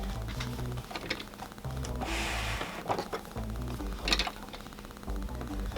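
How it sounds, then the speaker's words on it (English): A sewing machine runs in quick rhythmic bursts of rapid mechanical stitching, stopping and starting several times up close, with no talking. "let's go ahead and take this to our sewing machine"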